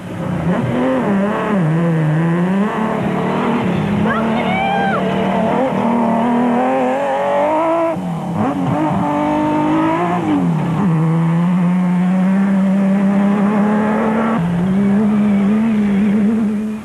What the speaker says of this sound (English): the race leaders were Geniel de Villiers and Francois Jordan in the Nissan Hardbody Super Truck